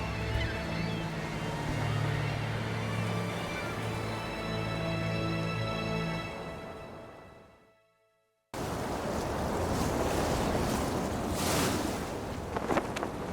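Ocean waves and wind wash steadily around a sailboat at sea, a continuous broad rush that drops out into a brief silence before resuming, with no voices over it.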